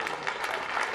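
Crowds in the UK clap in support of carers and health workers on a Thursday night, a dense continuous patter of many hands with a few sharper bursts.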